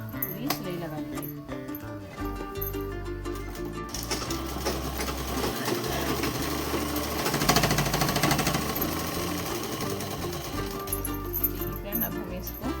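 A sewing machine stitches a shalwar, its needle clattering in a fast, steady mechanical rattle that pauses and restarts in short runs, with a low motor thrum underneath.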